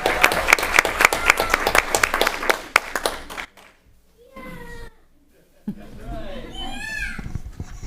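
At a city council meeting, an audience claps briskly in a crisp, rhythmic burst, then goes quiet, and a young child's high, squeaky vocal sounds follow in the room.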